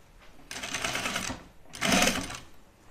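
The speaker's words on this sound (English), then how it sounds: "I'm going to sew just on the inside." Two short, close bursts of a sewing machine stitching along the gathers of a duffle coat seam, separated by a brief pause.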